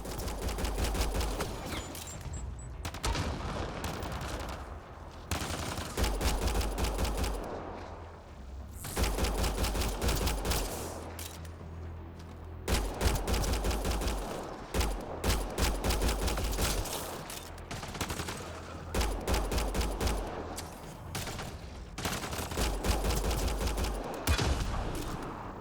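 Heavy sci-fi gunfire from a Mass Effect Andromeda firefight on Insanity difficulty, loud sustained bursts and rapid volleys in repeated waves with brief lulls, no talking.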